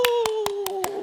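Five sharp, evenly spaced hand claps in quick rhythm, close and loud, over a sustained voice holding a tone, during a church worship service.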